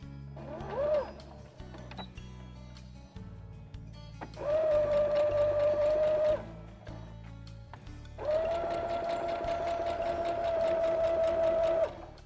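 A sewing machine stitches a small girl's bag in bursts: a brief run, a pause with faint handling, then two longer steady whirring runs up close with soft clicks between them.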